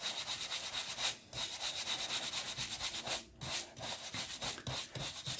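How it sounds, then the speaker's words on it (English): Shoe brush scrubbing over vintage paperback books, a close, soft, rhythmic rasping with quick back-and-forth strokes and brief pauses, quiet and with no talking. "I'm going to use this sort of shoe brush here, as you can hear"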